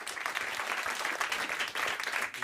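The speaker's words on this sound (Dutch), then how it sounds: "Applaus." An audience at a live event on plastics breaks into dense, continuous applause, a brisk even wash of many clapping hands that stays strong for the whole moment.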